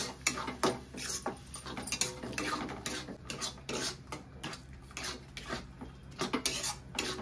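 Spice mixture for potol dorma being stirred and sautéed in a pan, with a steady run of metal spoon scrapes and clinks against the pan over a soft sizzle, close and continuous, with no talking.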